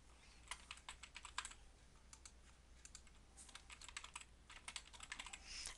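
Rapid keystrokes clatter on a computer keyboard as a test name is entered, irregular bursts of close, crisp clicks with short pauses between and no talking.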